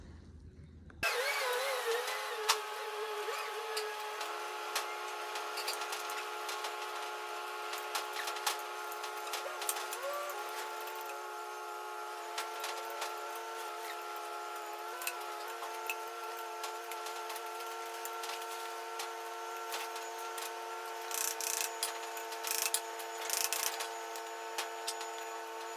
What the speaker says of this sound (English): weld the bearings on now